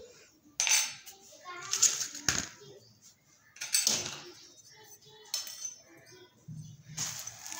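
Puffed rice snack is tossed and mixed in a bowl, giving bursts of clinking and rattling scrapes from a utensil against the bowl, with pauses between strokes and soft speech nearby.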